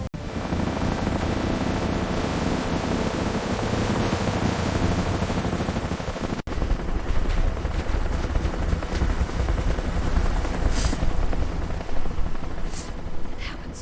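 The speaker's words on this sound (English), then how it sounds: "The rescue helicopter is descending!" A rescue helicopter descends over a beach, its broad, loud rushing roar filling the scene without pause, with a brief cut partway through and surf-like wash beneath, no voices heard.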